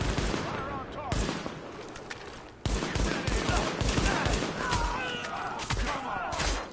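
Rapid automatic gunfire in a Tom Clancy game, loud sustained bursts and fusillades with sharp cracks, under shouted voices.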